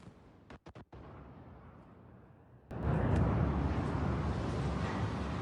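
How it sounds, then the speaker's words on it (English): Explosion from a drone strike in Dubai: a sudden loud blast that becomes a sustained, heavy roar and rumble, preceded by a few sharp distant cracks over a steady low background. "Big explosion there."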